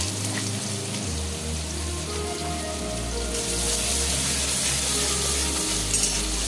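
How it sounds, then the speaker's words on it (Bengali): Chopped onion frying in a little fish oil with white cumin seeds, a steady close sizzle and crackle with a low hum underneath, growing a bit brighter and louder midway, no talk. "পেঁয়াজটা হালকা ভেজে নেব।"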